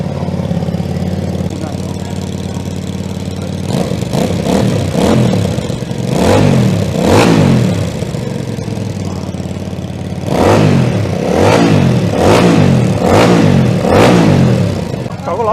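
Engine of a 2022 Benda BD300 motorcycle starting and idling steadily, then revving up in two sets of repeated sharp throttle blips, loud and close.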